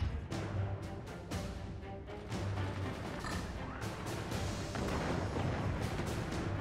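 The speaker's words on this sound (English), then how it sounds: "you, my friend, let out a mortar" Mortar launches and impacts in the physics fort-building war game Forts, a run of sharp thumping booms and bursts layered over a steady battle rumble, fairly loud with no talking.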